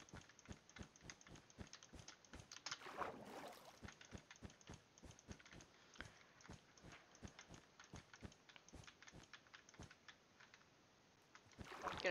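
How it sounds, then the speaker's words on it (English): A loud computer mouse clicks steadily and quickly during a Minecraft building session, with crisp close clicks in an irregular rhythm throughout and no talking. "Gonna hear a lot of clicking, just so you know, because my mouse is kind of loud"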